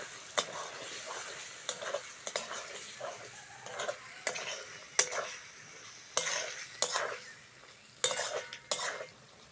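Boiled potatoes tumble into frying spice paste for an egg curry, followed by a low sizzle and sharp, irregular clacks and scrapes of a spoon against the pan as everything is stirred, nearby and quiet.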